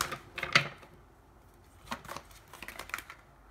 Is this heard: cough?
no